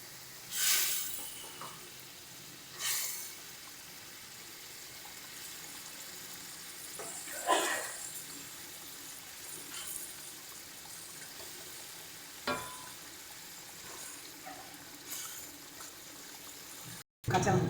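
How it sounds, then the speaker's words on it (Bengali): Fried bhola fish, added to mustard paste in a pan, give a soft steady sizzle with occasional louder splutters and stirring clatters at fairly low volume. "এবার এর মধ্যে আমরা ভেজে রাখা মাছগুলোকে দিয়ে দেবো।"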